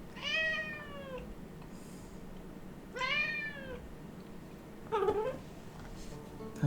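Two clear, separate meows from a house cat, each a rising-then-falling call, followed by a shorter chirp-like vocalization over a low steady background hum during a Humankind strategy game session.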